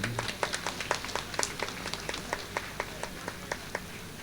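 Scattered, uneven hand clapping from a small crowd at a church festival, sharp claps coming in a loose rhythm for a few seconds with no talking.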